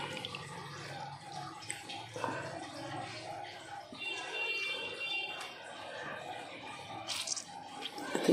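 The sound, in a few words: water squeezed out of fish fillet, dripping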